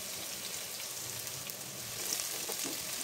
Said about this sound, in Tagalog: Kapag mainit na ito, gisahin na natin ang sibuyas at bawang.